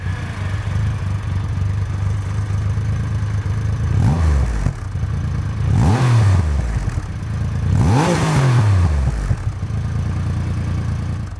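A Triumph Rocket 3R cruiser with its stock, fairly quiet exhaust rides past, its engine droning steadily and rising and falling in pitch through three upshift-like sweeps, heard alone without talk.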